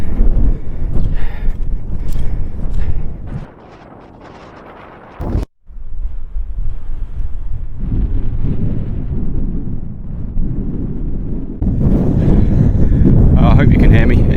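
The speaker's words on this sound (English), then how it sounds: "It is very, very windy." Strong, gusty wind buffets the microphone high on a Lake District fell in the Eastern Fells near Hart Side, roaring loudly and continuously with a brief lull midway before surging again.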